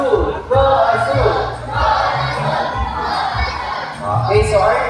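Children in the audience at an Ocean Park bird show shout and cheer together in loud rhythmic bursts, a crowd of young voices chanting close by in repeated waves.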